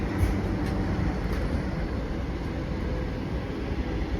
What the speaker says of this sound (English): we're overtaking another train